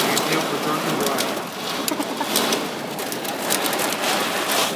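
Rain and hail pound down during a Nebraska tornado storm, making a dense, loud, continuous hiss that stays steady throughout with scattered sharper impacts.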